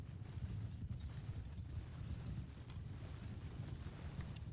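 Horse hooves clip-clop in a steady rhythm, a Rouncy horse in the Bannerlord video game, with constant low wind-like rumble beneath the moderately loud hoofbeats.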